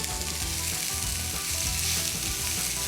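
Onions cooking with a little sugar, salt and pepper in a pan for butterbean, chorizo and feta soup, a loud, even sizzle heard up close without any voices.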